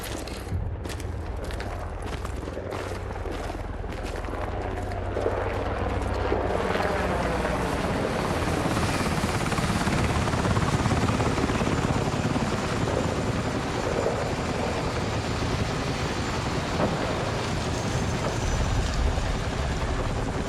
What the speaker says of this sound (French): Carter, notre hélico arrive.